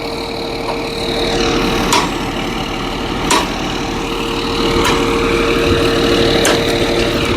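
A large train locomotive engine idles at the scene of a two-train collision near Sirhind, a steady droning hum with a faint whine on top and a few sharp clicks and knocks along the way.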